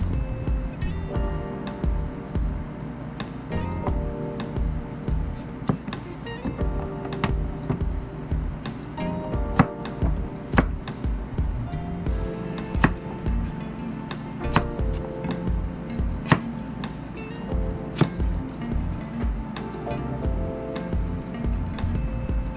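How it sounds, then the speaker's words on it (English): Steady knife chopping of potatoes and carrots into bite-sized pieces for Japanese nikujaga, with repeated sharp taps on a cutting board in an uneven rhythm over a dense kitchen background, close and fairly loud throughout. "cut the potatoes and carrots into bite-sized pieces"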